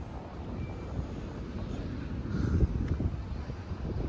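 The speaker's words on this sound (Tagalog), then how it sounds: "Ang simoy ng hangin." Wind buffets the microphone with a steady low rumble that swells a little midway, with no clear voices, high up on a 120-floor tower in Kuwait.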